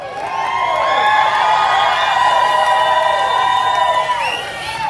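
A large outdoor crowd at a political rally cheers and whoops loudly and continuously, with shrill shouted voices rising and sliding over the roar.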